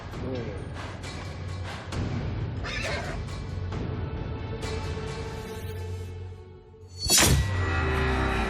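A horse neighs and whinnies in a dramatized scene of a man breaking a horse in 1800s Canada, loud drawn-out calls over scuffling and thumps, with a burst of clatter near the end.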